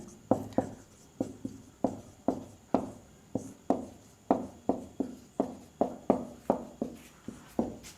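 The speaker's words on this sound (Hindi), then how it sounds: "यहाँ पे लिख देते हैं।" Writing on a board during a maths lesson: a regular series of close, crisp taps and strokes, about two per second, steady and alone without talk.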